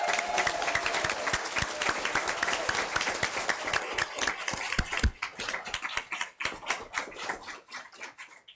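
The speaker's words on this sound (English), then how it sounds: "Let's give them a round of applause." A school board meeting audience applauds steadily for several seconds, a dense roomful of hand claps that thins out into scattered, fading claps toward the end, with no talk over it.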